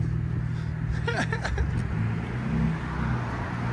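A BMW Z3 with a 3.0L inline-six engine and a straight-pipe exhaust runs close by with a loud, steady low rumble and a deep, droning exhaust note.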